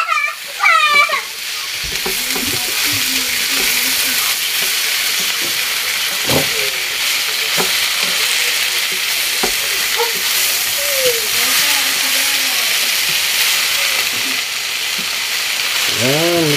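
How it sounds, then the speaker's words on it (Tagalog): Food sautéing in a hot pan for a home-cooked dinner dish: a steady, loud sizzle and hiss that runs throughout, with occasional clinks and stirring, and a voice speaking briefly under it. "Gigisa lang natin."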